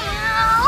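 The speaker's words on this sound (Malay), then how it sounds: "Comel kucing. Gemuk ke?" A single short cat meow at a camping site, close and clear, rising then ending in a brief upturn.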